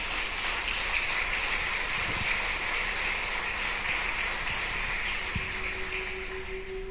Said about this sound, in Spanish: ¿Alguien puede dar un aplauso al Señor?